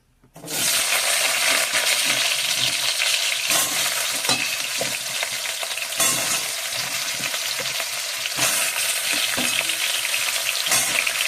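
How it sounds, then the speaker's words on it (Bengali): Potatoes frying in oil in a wok, a steady, loud, crackling sizzle that starts abruptly and runs on with occasional sharper pops and stirring scrapes. "এবার কড়াইয়ে তেল দিয়ে আলুগুলো ভেজে নেব"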